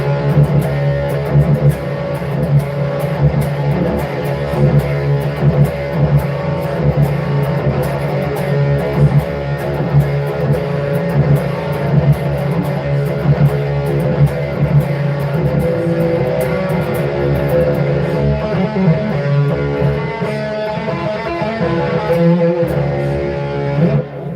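Electric guitar played through a Celestion Greenback speaker in a hard rock setting, sustained dense chords and riffs ringing steadily and loud throughout, no talking.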